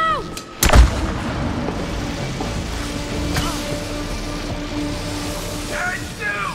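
A weapon in the video game It Takes Two fires at a wooden dome with one heavy booming blast near the start, followed by a sustained rumbling tail and game effects, no clear speech.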